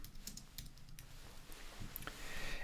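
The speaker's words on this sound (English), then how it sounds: "I'm going to just type in here touch base." Soft clicking keystrokes on a computer keyboard while text is entered into a calendar entry, a short quiet run of taps with small gaps, heard alone.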